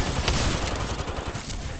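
Rapid automatic gunfire during a video game tournament match, a dense, continuous burst of shots at moderate volume.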